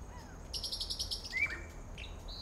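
Song of a wild mimic bird in a temperate forest in western Mexico: several bright, chirping phrases and a rising whistle, fairly close and clear over faint background hiss.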